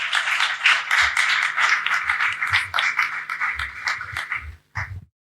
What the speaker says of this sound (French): toujours sous vos acclamations